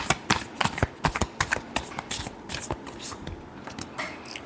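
Tarot cards are shuffled by hand in quick, crisp riffling bursts, a rapid series of close, sharp flutters and snaps that slows near the end.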